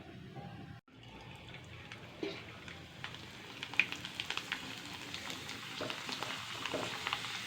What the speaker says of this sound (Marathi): आता आपण तळून पाहूया पापड्या